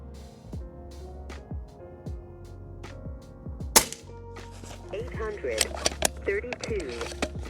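An air rifle fires H&N Barracuda Match pellets at a target 25 yards away: a series of sharp, close cracks and snaps with short gaps between, over a low hum and faint talk.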